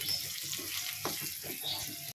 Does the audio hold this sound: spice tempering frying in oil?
yes